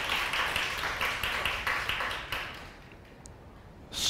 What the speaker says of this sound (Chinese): 请各位鼓掌一下